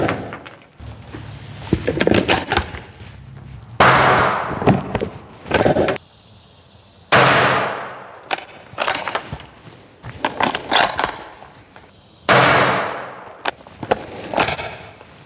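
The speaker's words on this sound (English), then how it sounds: "Ruger American 300 blackout, 220 grain subsonic rounds unsuppressed" Five unsuppressed shots from a Ruger American rifle in 300 Blackout firing 220-grain subsonic rounds, each a sharp loud crack with a short decaying tail, spaced a couple of seconds apart with faint clatter between.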